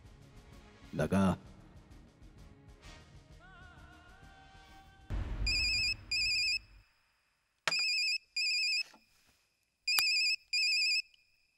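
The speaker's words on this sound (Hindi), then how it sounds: "एड़ा का फोन है।" A phone ringtone chirps in repeated bursts of bright electronic tones after a stretch of muffled activity and a short rumble.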